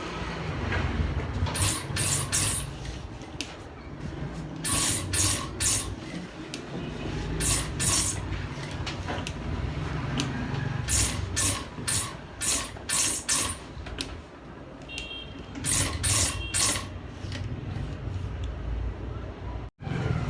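A sewing machine stitches the cuff of a men's kameez in a tailoring shop, running in repeated bursts with brief pauses and a steady mechanical whir close by.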